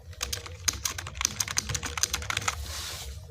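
Quick, uneven keystrokes clatter on a computer keyboard while text is typed into Microsoft Word, a close burst of crisp clicks lasting about three seconds.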